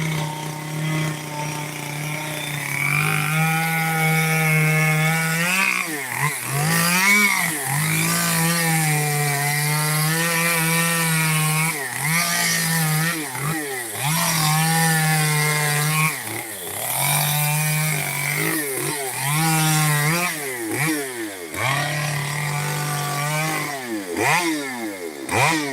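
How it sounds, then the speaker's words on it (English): A chainsaw roars steadily as it cuts through wood, its engine pitch dipping and rising repeatedly as the blade bites and frees, loud and close. "He's been doing this with a chainsaw for 17 years."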